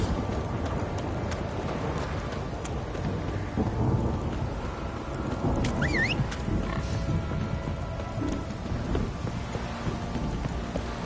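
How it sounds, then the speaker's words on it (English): Steady heavy rainfall with low rumbling thunder in The Witcher 3, a dense continuous wash of rain and rolling rumbles, with a brief chirping sound partway through and no talking. "Don't stop raining, my arse will rot off."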